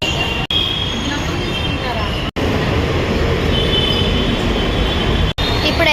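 A train idles at a station platform after passengers have stepped off, giving a steady loud rumble with faint high wheel squeal and a few brief dropouts, with no talk.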